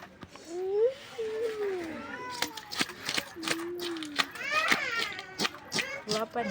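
A cat meows several times at close range, drawn-out and wavering, amid sharp clicks and a little talking.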